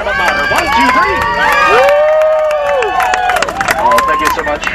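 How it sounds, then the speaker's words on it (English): Tour boat passengers on Disneyland's Jungle Cruise let out a loud, sustained cheer, with many voices whooping and shouting together and some scattered clapping, close and energetic throughout. "put your hands together and give yourselves a big loud cheer"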